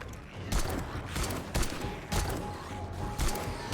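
Gunshots in a video game, spaced single rifle shots fired at a steady pace, each a loud sharp crack with a trailing echo, around half a second to a second apart.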